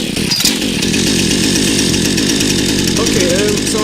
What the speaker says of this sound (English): I'm just going to give this chainsaw a test.